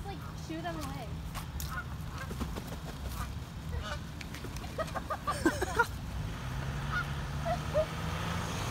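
Geese honk repeatedly on a road, loud scattered calls from several birds at varying distances over a steady outdoor rumble, with people talking and laughing in between.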